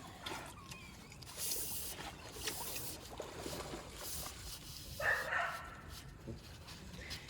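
Shelter dogs barking at a leaf basket during outdoor yard maintenance, several faint barks and yips scattered across the scene amid rustling and background noise, fairly distant and low in level.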